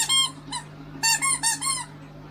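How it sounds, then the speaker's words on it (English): Squeaky dog toy squeezed repeatedly, sharp high squeaks in a quick pair, then a faster run of four close together, with a low steady hum underneath. "You keep squeaking that one."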